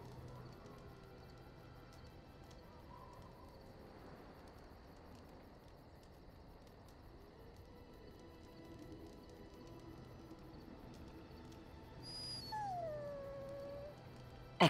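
A dog in the Dragon Age Origins video game whimpers and gives soft, wavering howls, faint at first and rising toward the end, set against quiet ambient game background with no speech.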